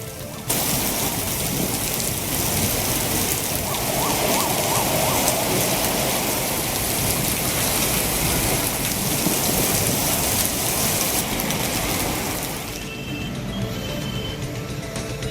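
Heavy rain falling in the Chennai area, a dense, steady hiss of downpour on surfaces, loud and unbroken for most of the stretch before easing slightly near the end, with no voices.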